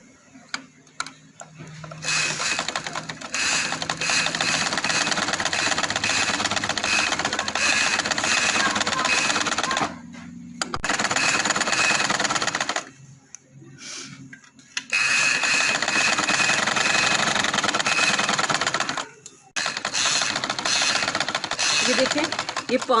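A sewing machine stitches trouser legs with elastic thread in long, loud, rapid mechanical bursts, with brief pauses between runs and a short stop midway.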